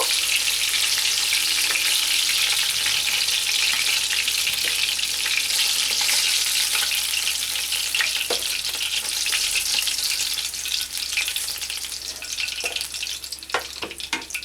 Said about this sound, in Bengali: এইভাবে আমি মাছগুলো ভেজে নেব।